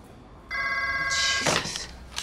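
Telephone bell ringing in a busy newsroom, a loud steady electronic ring that starts partway through, joined near the end by a burst of clatter and movement.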